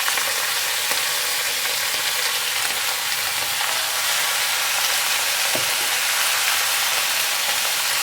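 Chopped ridge gourd pieces frying in a pan with curry leaves, giving a steady close sizzle with light stirring scrapes throughout and no talk.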